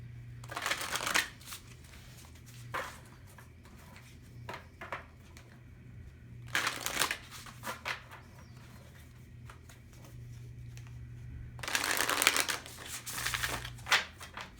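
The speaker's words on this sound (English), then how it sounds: "I'm also going to pull from this spell deck." Deck of spell cards riffled and shuffled in three distinct bursts, close and crisp, separated by quiet gaps with faint light handling.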